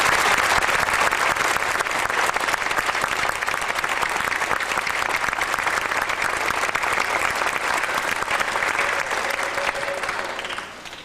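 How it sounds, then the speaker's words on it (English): Sustained audience applause at a school honor band concert, a dense, loud, steady clapping from a large crowd that holds for about ten seconds before tapering off at the end. "So please give these students a round of applause."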